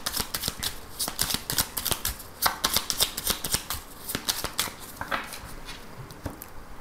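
A deck of 32 playing cards being riffle-shuffled close up, a rapid rhythmic flutter of crisp slaps in repeated bursts, clear and with no voice over it.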